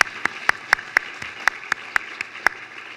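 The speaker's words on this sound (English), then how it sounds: "Let's give everyone a round of applause again." Sparse, evenly spaced claps ring out at a housing awards luncheon, sounding like a few hands in a room rather than a full crowd, set over low background hum.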